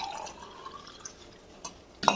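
Homemade lemon juice poured from one glass into another glass with a flower pattern. A faint, brief trickle ends in a sharp glass clink.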